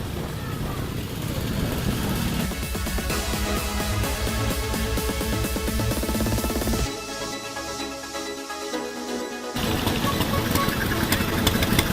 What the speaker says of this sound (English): they've got to get all the bikes going again from outside the museum